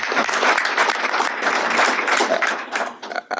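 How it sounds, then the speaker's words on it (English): A room of listeners at a congressional delegation briefing on the Willamette River BiOp applauds a presenter, many hands clapping in a full burst that thins into scattered claps near the end. "Can give him a big round of applause."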